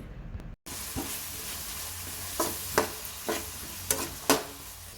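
Four medium onions, sliced and salted, sizzle in hot oil in a pan in a steady hiss, with a few louder stirring scrapes as they are turned.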